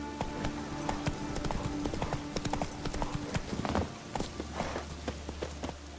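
Hooves of Roach, Geralt's horse in The Witcher video game, clip-clop rapidly in a steady running rhythm, close and loud against a low game ambience, with a brief whinny-like sound.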